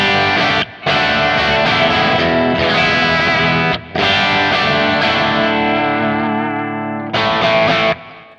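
Heavily distorted electric guitar on the bridge pickup through a Kemper profiler using a Mars Astra High 2 profile: loud, dense chords and riffing with three brief stops, played alone without voices.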